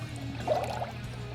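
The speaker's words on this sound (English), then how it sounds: "Unless it's just a little drip from the hose." Coolant dribbling from a radiator hose on a 1999-2004 Jeep Grand Cherokee during a radiator replacement, a soft close trickle over a steady low engine-bay hum.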